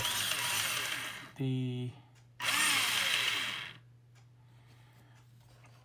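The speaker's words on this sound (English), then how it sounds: "that's the servo is being controlled right now" The steering servo of a Tamiya TT-02 RC car with a Subaru Impreza Monte-Carlo '99 body whirs in two short, close bursts over a low hum, with a single spoken word.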